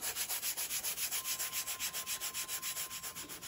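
A metal bamboo-shoot digging tool is rubbed back and forth to polish off rust, a steady rhythmic scraping of roughly six strokes per second, close and alone, with a faint high tone running underneath.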